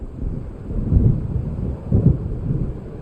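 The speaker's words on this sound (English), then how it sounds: "It seems there's a storm coming." Deep, rumbling thunder of an approaching storm in the video game Alan Wake Remastered, loud and continuous with two heavier rolls, under a wash of rain and wind.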